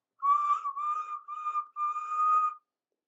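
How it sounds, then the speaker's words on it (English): A chorus of steam-engine whistles sounds from an engine shed: four shrill, sustained blasts in close succession, loud and alone, with no audible cheering. "Suddenly, a chorus of whistles and cheers came from the shed."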